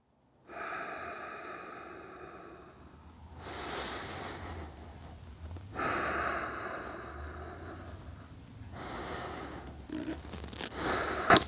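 Slow, deep breaths during a lower-back stretch: long, close inhales and exhales in a steady rhythm of about four cycles, with no speech.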